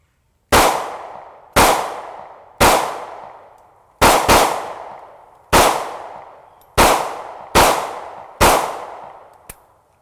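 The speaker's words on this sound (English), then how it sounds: "I guess we just keep on shooting rounds until it jams and I can prove it to you." Eight loud gunshots from a Ruger firearm ring out one at a time at uneven intervals, each a sharp crack with a short echoing decay, followed by a faint metallic click at the end.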